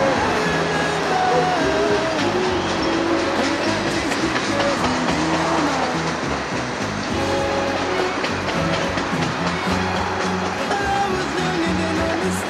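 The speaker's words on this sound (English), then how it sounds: "There's another train coming up." A CN local freight train hauling mixed cars rolls past in Montreal, a loud continuous roar and rattle of wheels and wagons that fills the whole stretch without a break.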